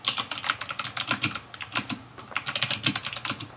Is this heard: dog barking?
no